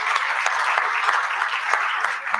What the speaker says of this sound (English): can you have a big round of applause for this incredible panel?